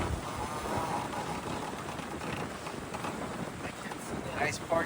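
Wind buffets a sailboat in about 14 knots of breeze on a sailing outing, a steady rushing roar with microphone wind noise throughout and faint voices underneath.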